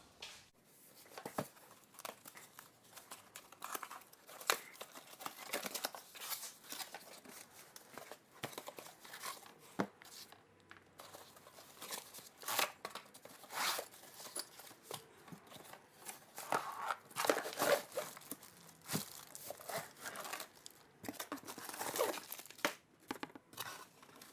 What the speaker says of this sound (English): So let's just take it out of the box.